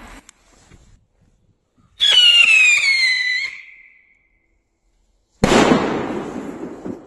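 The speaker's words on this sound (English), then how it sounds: "the firecracker explodes too late" A homemade whistling rocket with a slow fuse shrieks with a loud, rising whistle that fades out, followed after a pause of silence by a sharp firecracker bang that decays away.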